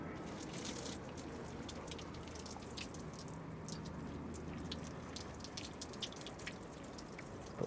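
Hot water from a just-boiled kettle is poured over rubber radiator hoses on a Volvo 340/360, giving a steady, faint splashing and trickling that runs unbroken throughout.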